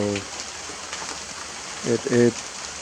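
Steady rain falls in Roxas, Isabela in the Philippines, a constant hiss of drops heard throughout at a moderate level. A voice briefly speaks over it at the start and again near the end.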